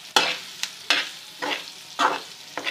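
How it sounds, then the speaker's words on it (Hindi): Green chilli masala with turmeric frying in a pan on low flame, stirred in about five rhythmic scraping strokes over a soft sizzle, close and with no voices. "हल्का सा फ्राई कर लेंगे ताकि हल्दी जो है वो हमने डाली है कच्ची सी खुशबू ना आए इसमें से।"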